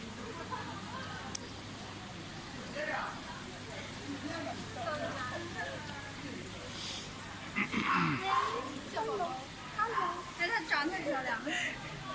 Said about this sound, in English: One of the shop owner's dogs. That dog is hyper.